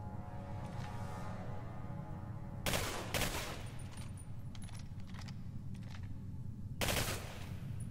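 Gunfire in the video game Singularity, shot inside a basement, comes as two sharp bursts of rapid reports over a steady low game ambience hum.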